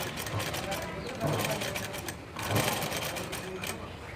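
A sewing machine stitching a blouse, a steady close mechanical whirring hum with a rapid needle rhythm, running continuously under a person talking.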